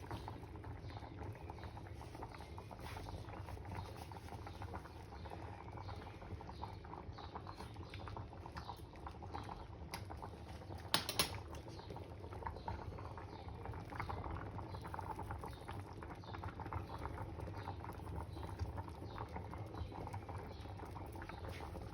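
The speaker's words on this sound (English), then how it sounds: "the cod is boiling now" Cod stew liquid boiling in a pot, a steady soft bubbling and light patter that continues throughout at low level, with a brief sharper clink near the middle.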